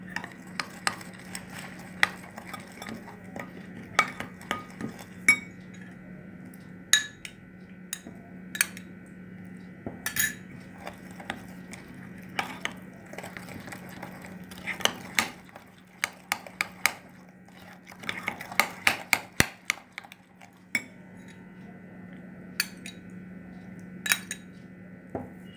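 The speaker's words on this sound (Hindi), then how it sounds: "और हम इसके अंदर 3 स्पून्स मिल्क डालेंगे एक टाइम पे, और इसको अच्छे से मिक्स करते रहिए।" A spoon stirs milk into eggless choco lava cake batter in a bowl, with a steady run of light clinks and scrapes against the bowl and a faint background hum, close and without talk.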